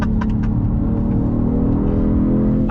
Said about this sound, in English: Nice downshift from that gearbox.